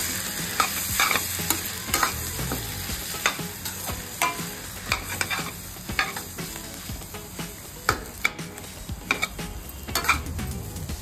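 Noodles tossed with coriander in a pan give a steady sizzle under repeated scraping and clacking strokes of a spatula. The strokes come at an irregular rhythm, close and clear, with no voices.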